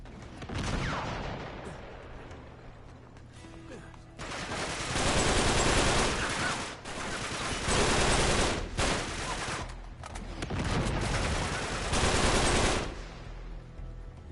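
Sustained enemy gunfire in Uncharted 3: Drake's Deception, dense automatic bursts and fusillades rolling in loud waves over about fourteen seconds, with brief lulls between volleys and no talk.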